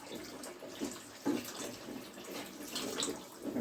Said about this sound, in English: I'm going to dump out the excess water.